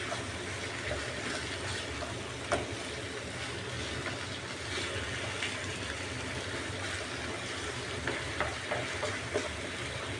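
Beef seasoned with black pepper sizzles steadily in a hot pan, a continuous close frying hiss with occasional clinks as it is stirred, no voices.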